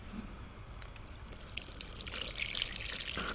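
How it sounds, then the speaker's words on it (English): Water poured from a container onto soil over freshly planted pea seeds in a garden: a soft splashing trickle that grows steadily louder and hisses on for about two seconds, close by and with no talk. "A little more water."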